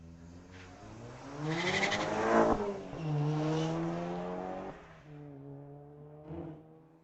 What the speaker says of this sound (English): Ben in his 19 Tesla taking on Marcus out of Langley in his 11 GTI